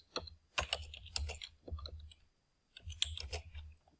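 Computer keyboard typing while entering text in Microsoft Word, quick bursts of light key clicks close up, pausing briefly midway before another flurry, no voices.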